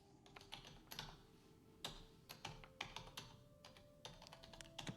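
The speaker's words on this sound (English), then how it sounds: "I'm going to play the sound of someone typing." Someone types on a QWERTY computer keyboard, a steady run of close, crisp key clicks in irregular bursts with occasional louder strokes, heard alone over a faint hum.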